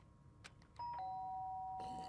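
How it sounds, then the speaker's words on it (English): A two-tone doorbell chime rings in the video game Danganronpa, with a sustained electronic tone holding steadily after a few short clicks and soft knocks, loud and clear. "The sharp sound of the doorbell pierced my sleepy haze and pulled me back to the real world."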